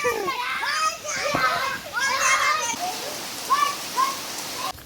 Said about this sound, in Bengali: বৃষ্টি শুরু হয়ে গেল খেলা করতে করতে